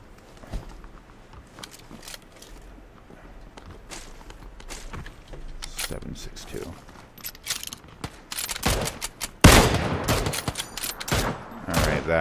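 Guns fire in the PUBG battle royale game, with scattered sharp shots and footstep-like clicks that grow denser and louder toward the end, including one loud crack near the close.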